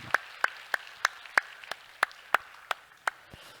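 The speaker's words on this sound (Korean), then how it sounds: "우리 축하의 박수 한번 같이 하겠습니다." A slow, sparse clap, about a dozen single sharp hand claps at an even rhythm during a church service, fairly faint with a quiet room behind.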